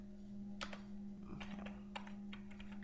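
A computer keyboard being typed on in short bursts of quick, light key clicks with pauses between, close and quiet over a steady electrical hum.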